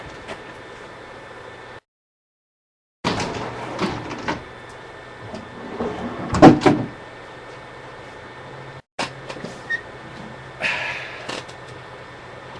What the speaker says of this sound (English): I have to shut my door here